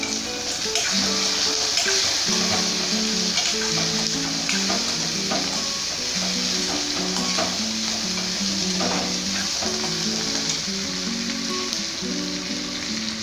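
Salted ingredients for vadagam chutney sauté in a hot pan, giving a steady close sizzle with occasional stirring scrapes. Soft tones run underneath and nobody talks.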